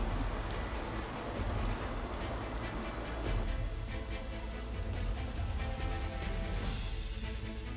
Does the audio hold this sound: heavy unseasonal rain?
yes